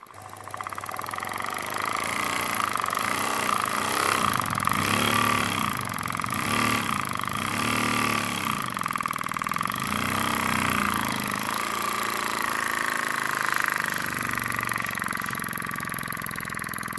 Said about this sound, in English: now it starts and runs freely at 3 psi